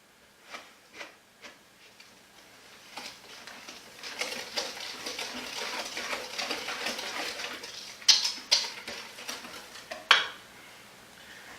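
A whisk clinks and scrapes steadily against a bowl while melted butter is beaten into vegan double chocolate beet muffin batter, starting with a few sparse taps, then settling into quick rhythmic metallic whisking with louder knocks near the end.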